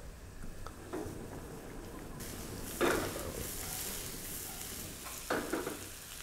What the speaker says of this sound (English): We're going to caramelize our onions a little bit in the butter.